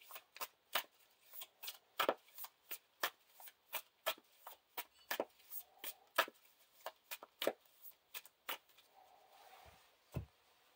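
Playing cards from a Lord of the Rings card game are shuffled back into a deck in a quick run of crisp, close riffles and snaps, each one sharp and short against a quiet background.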